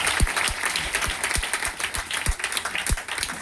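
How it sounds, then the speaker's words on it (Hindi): A crowd claps steadily at a sales meeting in Patna, many hands producing a dense, even patter of applause that continues throughout at moderate volume. "एक जोरदार ताली होनी चाहिए।"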